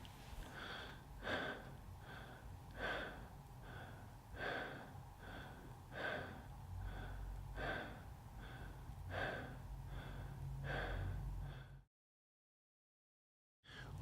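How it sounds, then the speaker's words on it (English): Fast connected breathing exercise, rapid rhythmic inhales and exhales with no pause between them, about one breath cycle per second, close and fairly soft, ending in a sudden stop to silence. "Keep the inhale and exhale connected without pause, but adjust your pace and volume to what allows you to be energized"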